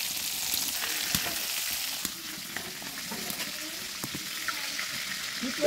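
Prawns sizzle in hot oil, a close, steady hiss with crackling pops and occasional clicks of a spatula stirring the pan.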